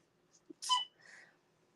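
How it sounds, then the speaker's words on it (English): A single short, sharp sneeze with a quick intake of breath before it, close and fairly quiet. "Sorry, I just had to sneeze there for a sec."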